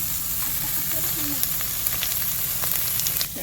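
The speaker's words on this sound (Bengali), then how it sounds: "এই শুকনো লঙ্কাগুলো আগে দিয়ে দেবো এই শুকনো লঙ্কা লাল লাল হয়ে আসতেছে" Dried red chilies sizzling in hot oil in a pan, a steady dense crackle and hiss with a few sharper pops, close and alone without talk.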